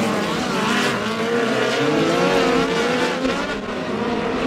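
Midget race cars of the POWRi West Midget League roar around the dirt oval at Airport Raceway during a heat race, a dense, continuous engine whine with shifting pitch as the cars pass close by.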